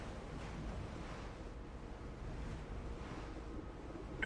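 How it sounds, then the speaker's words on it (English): Ocean waves wash around a boat in The Last Caretaker, a steady, fairly quiet rush of surf and wind with soft swells that rise and fall and no voices. "Yeah, these waves are actually moving the boat."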